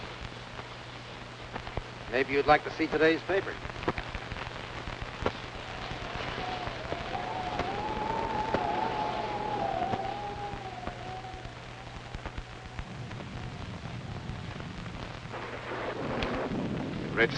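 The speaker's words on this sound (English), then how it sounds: "It's liable to rain all night." Rain falling steadily in a 1943 mystery film, with a low rumble of thunder, all heard faintly beneath dialogue between men.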